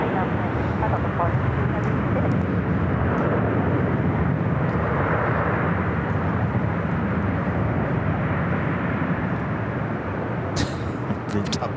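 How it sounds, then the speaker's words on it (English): A Delta Airlines Airbus A319 at LAX gives off a broad, steady jet roar that holds near-constant loudness throughout, with a voice talking over it. "Delta Airlines flight 2459. It's an A319. They're pushing back from Terminal 2."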